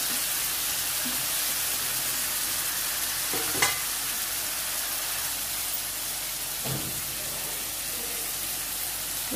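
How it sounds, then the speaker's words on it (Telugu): Chopped onions and tomato pieces fry in oil with a steady bright sizzle, interrupted by a couple of scraping stirs of a spoon through the pan. "కలుపుకుంటూ వేయించుకోవాలి"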